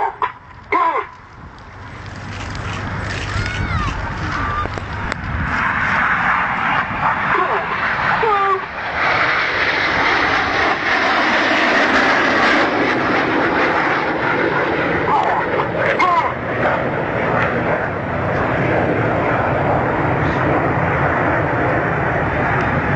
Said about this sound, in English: The inside pilots perform tight match barrel rolls to the outside of the formation as they fly the rollbacks.